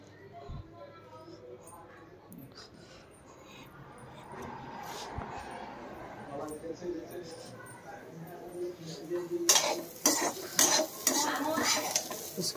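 Peas ghughni being stirred and roasted in a pan, with soft scraping and a low sizzle growing steadily louder, ending in sharper clinks of the spoon against the pan.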